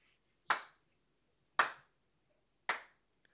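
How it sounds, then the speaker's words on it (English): Children clapping their hands in three separate loud, sharp claps, each about a second apart, heard close up in an otherwise quiet room. "you want to do your claps again?"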